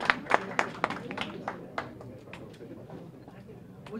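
Applause from an audience at a Dominican diaspora gathering in New York: a burst of claps, strongest at the start, that thins out and fades over a few seconds.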